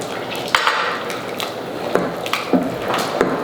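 Stirring sweet and sour sauce in a pan for chicken meatballs, with a utensil scraping and clicking against the pan in irregular close strokes over a steady background hiss.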